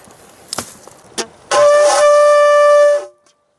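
A hand-blown horn signal sounded outdoors on an early-spring fishing trip, one loud sustained hooting tone lasting about a second and a half after a couple of small knocks, then cutting off.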